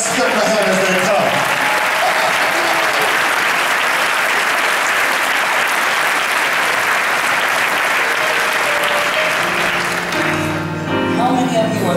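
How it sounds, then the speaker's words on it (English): Loud, sustained audience applause at a church Christmas choir concert, many hands clapping steadily for about ten seconds, with a voice speaking at the start and the end. "Let's clap our hands as they come."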